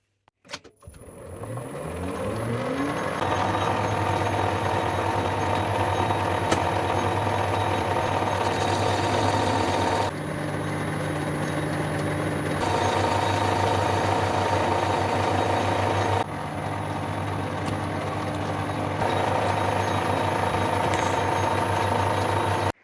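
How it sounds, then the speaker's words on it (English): A Colchester lathe runs steadily while facing the ends of M16 bolts, a sustained mechanical whir with a tonal hum and shifts in pitch as the cut changes. "I'm just going to quickly skim the face off these bolts"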